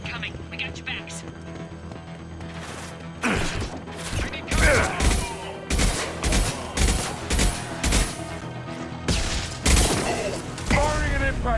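Sharp gunshots and crashing impact blasts from a firefight in Mass Effect 2, coming in irregular bursts with short pauses, while game voices call out over the combat.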